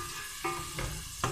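Onions fry in a pan on the way to turning brown for a pickled white pulao, a steady soft sizzle with a few brief louder scraping stirs.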